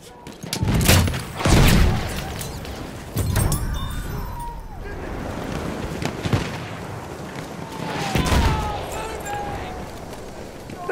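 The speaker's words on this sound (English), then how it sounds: "Machine gun over there!" Machine gun fire in the Battlefield 1 video game, bursts of rapid shots and heavy booms in repeated clusters, loud and close over battle noise, with voices shouting at times.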